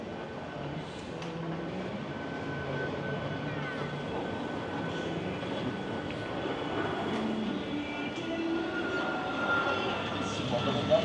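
A roller coaster train at California's Great America rumbles past at a distance, a broad steady roar building slightly toward the end, with faint voices in the background.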